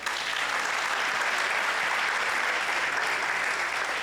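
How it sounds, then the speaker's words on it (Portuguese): A church congregation claps for the Lord, with dense, steady applause filling the room evenly from start to finish and no voices standing out. "Era a hora das palmas ao Senhor."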